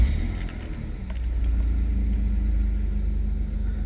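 A Vauxhall Vectra V6 engine catches and settles into a steady low idle rumble, loud and close, after a brief start at the beginning.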